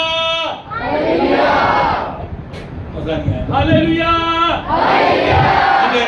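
A church congregation shouting loudly together during an Urdu and Punjabi sermon, in two long swelling bursts separated by a short pause, with the preacher's voice heard between them.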